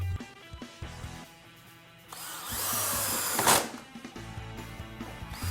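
A power drill drives long screws to attach a door closer's jamb bracket. A loud, close motor whir builds and runs for a couple of seconds, then tapers off. Brief clicks and handling noises come before and after.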